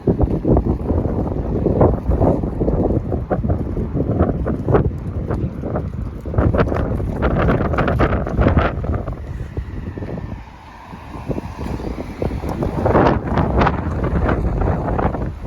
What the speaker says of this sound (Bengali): এরকম বাতাস বইছে দেখছেন একটা শব্দ হচ্ছে